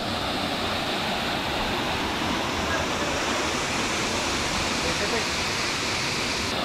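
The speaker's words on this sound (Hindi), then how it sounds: "आप देख सकते हो पानी का फ्लो भी देखो यहाँ पे बहुत ही ज़बरदस्त है" Powerful waterfall near Sakleshpura with heavy, rushing water flow, a loud and steady broadband roar that fills the whole clip without break.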